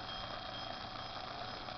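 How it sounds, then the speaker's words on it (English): A small electrostatic bell driven by a mini Van de Graaff generator rings continuously in rapid, buzzing chimes, steady and fairly close throughout. "And there's the bell going."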